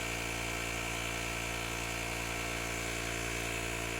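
TUSA11 car tyre inflator running continuously, a steady buzzing electric motor and compressor whine with a constant pitch and level throughout, fairly faint and uninterrupted.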